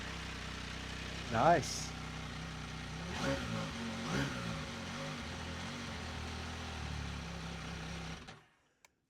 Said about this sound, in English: It's a proper 3-cylinder